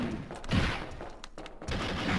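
Resident Evil 3: Nemesis gunfire, a handful of sharp, fairly close shots at irregular intervals over a muffled, rumbling game ambience.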